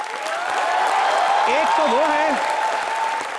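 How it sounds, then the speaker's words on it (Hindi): Studio audience on a comedy show gives loud, sustained applause to welcome two cricketer brothers, with someone speaking briefly over the clapping. "सो जोरदार तालियों से स्वागत कीजिए उनका।"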